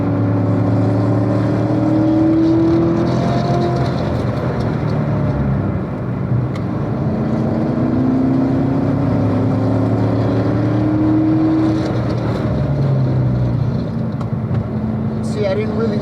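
A car circles a race track at moderate pace to warm its tires, its engine droning steadily with gentle rises and falls in revs, heard from inside the car with a person talking over it.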